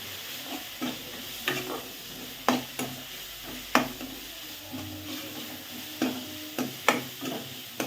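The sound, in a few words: frying tomatoes being stirred with ground spice paste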